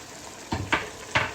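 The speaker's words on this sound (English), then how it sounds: "So let's go ahead and just give that a stir. Stir it all in together." A spoon stirs a pot of homemade chicken curry in three distinct scraping strokes, close and moderately loud, with a soft sizzle underneath and no talking.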